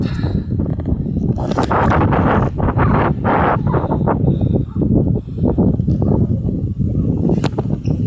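Strong wind roars across the microphone with steady low rumbling buffeting and gusty swells, loud and continuous throughout.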